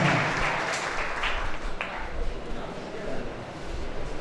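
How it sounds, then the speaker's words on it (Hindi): Applause from an audience at a national award ceremony, a dense steady patter of clapping lasting throughout, with a few louder peaks and no other prominent sound. "जोरदार तालियों से स्वागत करें।"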